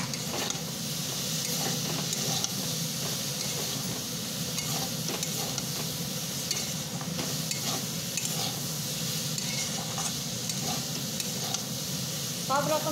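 Mixed vegetables sauté in a pan with a steady, dense sizzle and hiss throughout, broken by occasional light stirring scrapes.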